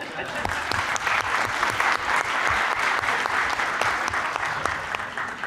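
Dense, sustained applause from a large conference audience at a mainstage session, steady and even throughout, close and full.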